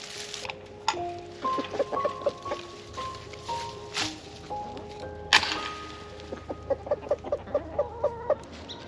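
Backyard chickens in a North Georgia garden cluck and murmur in short, irregular bursts, with a quicker run of clucks toward the end, fairly close and fairly quiet against a calm outdoor background.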